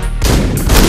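Gunfire from the video game Hotline Miami comes as a loud, dense burst of shots filling the whole second, close and harsh.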